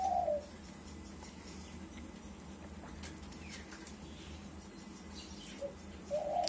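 Caged doves, including emerald, spotted and Eurasian collared doves, give a soft coo near the start and another near the end, faint over a low steady background hum.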